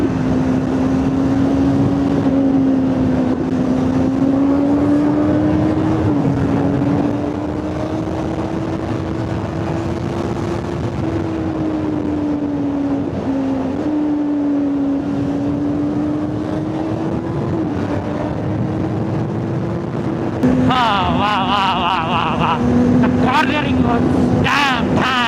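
A superbike, such as a Kawasaki Z900, Hayabusa or R3, ridden at midnight, its engine droning steadily with rising and falling revs amid strong wind rush, and a voice breaking in near the end.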